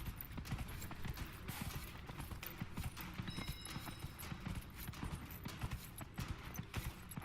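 A horse's hooves clip-clop in Dragon Age: Inquisition while riding through the Hinterlands, a steady and fairly busy rhythm of hoofbeats throughout, with no talking.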